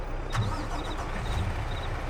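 A truck engine in the farming game Farm Sim 22 starts and settles into a steady, close, rumbling run, loud and continuous with no voices.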